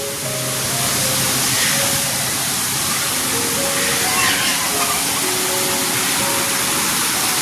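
A muddy village stream in the Konkan countryside rushes loudly after heavy rain, a steady broad roar of flowing water throughout with no break.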